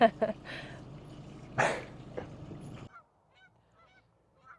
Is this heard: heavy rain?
no